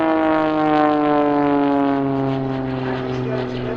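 Jet-powered Pitts S2S aerobatic biplane flown by Richard Goodwin at the Sanicole 2024 airshow, using asymmetric thrust with full power on one engine, gives a loud, sustained whining drone with steady tones sliding slightly in pitch across the pass.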